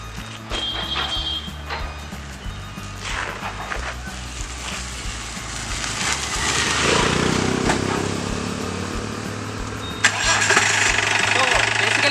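A jeep engine cranks and catches, then settles into a rising, steady run that grows louder toward the end, with people talking nearby during the start.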